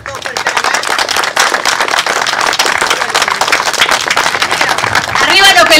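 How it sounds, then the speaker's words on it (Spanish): Loud, energetic crowd applause at a political gathering, a dense rapid clatter of many hands clapping close by, with voices rising near the end. "compañeros, vamos a dar un aplauso a todos"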